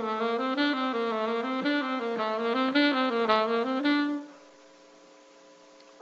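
Horn-like wind instrument playing a smooth legato jazz line of evenly grouped triplet notes, then a held tone that drops away to quiet, close and solo.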